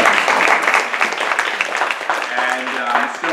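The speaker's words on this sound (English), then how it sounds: "And you can clap for that." Audience clapping at a community forum on overdevelopment, a dense burst of applause lasting a few seconds, fairly loud and close, with some voices mixed in underneath.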